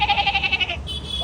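A man imitates a goat's bleat with a quick wavering, pulsing call lasting about a second, close and fairly loud, followed by a higher, thinner tone.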